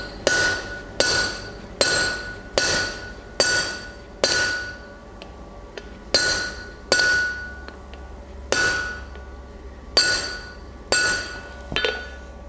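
Blacksmith's hammer striking a rivet snap on an anvil while forging, a steady series of about fourteen loud, ringing metallic blows with bright, clinking decay, evenly spaced and close, with no talk.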